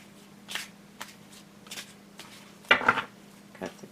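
A tarot deck is handled close by: a few separate soft shuffling riffles, then a sharper, louder burst of cards being cut and restacked, with quiet gaps between.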